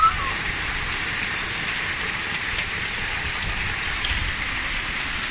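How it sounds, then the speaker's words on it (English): Hail pelts down in a dense, unbroken clatter during a 2019 Calgary hailstorm, a steady hiss of pellets striking surfaces all around, with no voices. "Hailstorm 2019"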